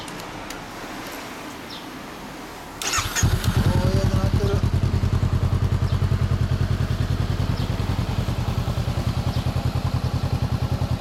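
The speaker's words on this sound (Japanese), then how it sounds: "エンジン音聞かせてもらえるかな" A 2016 Honda CBR400R with a Moriwaki MX exhaust starts up nearby and settles into a loud, steady, throbbing idle after a quieter opening.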